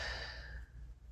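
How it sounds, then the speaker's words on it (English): A single slow exhale during a yoga flow, soft and close, a sighing breath that fades into quiet. "Breathe in and breathe out."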